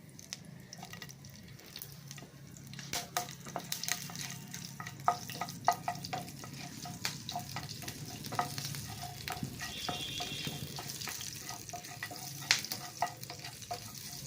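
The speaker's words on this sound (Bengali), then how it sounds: "এই কালো জিরে দিয়ে দিলাম, কাঁচা লঙ্কা দিয়ে দিলাম" Black cumin seeds and green chillies sizzling in hot oil in a pan, a soft continuous frying hiss dotted with sharp crackles and pops, close by, with occasional stirring sounds and no talk.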